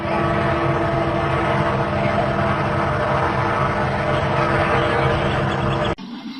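A burning passenger jet engine roars steadily at an airport on the ground, loud and continuous with a low rumble and broad hiss, then cuts abruptly to a quieter hum near the end; no talk.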